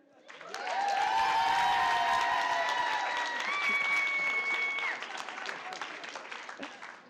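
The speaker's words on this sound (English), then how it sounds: "a round of applause for your fabulous MC" Crowd at an indoor panel event applauds the MC: clapping swells quickly, stays loud and dense for several seconds, then thins and tapers off, with a sustained tone and light crowd noise beneath.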